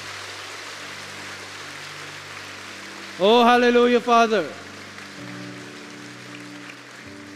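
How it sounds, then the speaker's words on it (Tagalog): A church congregation claps loudly during a sermon, a dense, steady, rain-like patter. Midway a voice rises briefly with a sung exclamation over the clapping. "pumalakpak ng malakas kay Jesus."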